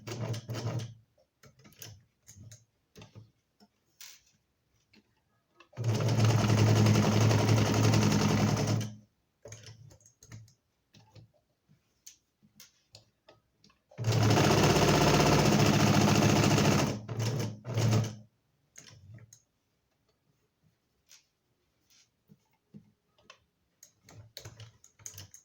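A domestic sewing machine stitches a straight seam in two loud, steady bursts of rapid mechanical whirring, each lasting a few seconds, separated by quiet clicks and fabric handling.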